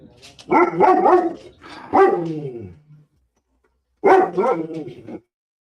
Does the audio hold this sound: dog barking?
yes